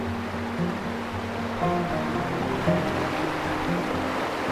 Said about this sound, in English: But I'm checking out the falls here, or the river actually here.